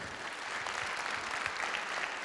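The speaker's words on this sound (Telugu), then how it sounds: "కొట్టండి చప్పట్లు" Steady audience applause at a Telugu association Ugadi celebration in South Jersey, dense even clapping throughout at moderate level, no talk over it.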